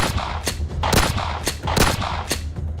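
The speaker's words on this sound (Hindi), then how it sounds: "गोलीबारी हो रही है।" Rapid bursts of gunfire ring out during an army encounter with terrorists near the LoC in the Palanwala sector of Akhnoor, loud repeated shots cracking over a steady background rumble.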